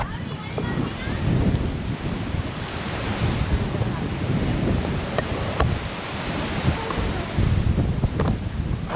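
Wind gusts through a treetop lookout in Australian bushland, a steady loud rushing roar with buffeting on the microphone that carries through the whole stretch.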